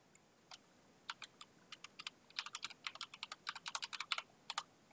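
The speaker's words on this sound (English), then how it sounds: "Alright, live typing." Someone types live on a computer keyboard, a quiet, close run of irregular key clicks that starts sparse and quickens into a busy burst of keystrokes, with no talking.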